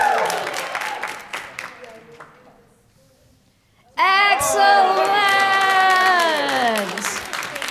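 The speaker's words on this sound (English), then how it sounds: "Let's hear some cheering." Audience at a live event breaking into loud sustained cheering and applause after a brief pause, following someone speaking with the crowd clapping lightly beneath him.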